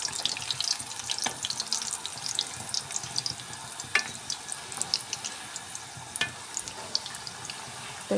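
Egg and flour batter frying in a pan gives a soft, continuous sizzle with scattered pops and crackles, fairly quiet and without speech.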